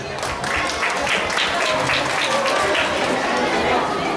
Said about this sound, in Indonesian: Tepuk tangan untuk Mbak Syaila.